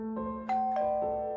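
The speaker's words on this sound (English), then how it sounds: "my doorbell rang" A doorbell chimes in a quiet home, its clear ding-dong tones ringing out and sustaining, followed by another pair of struck tones that linger and fade.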